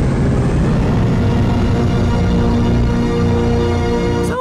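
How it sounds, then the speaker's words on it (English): Skibidi Toilet TV Titan attack sound, a massive swelling drone like the old THX intro, dense layered tones rising and sustaining loudly throughout, ending in a brief sweep. "Sounds an awful lot like the old THX intro sound."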